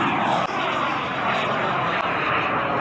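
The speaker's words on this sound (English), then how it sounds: "Clear for takeoff." A fixed-wing aircraft takes off with a loud, steady, close engine roar that fills the whole stretch without letting up.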